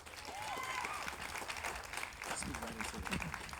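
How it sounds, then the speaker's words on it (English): Audience applause for a domestic violence survivor taking the stage at an outdoor walk event, a steady wash of clapping with crowd noise and scattered voices throughout, at moderate level. "Please give her a round of applause."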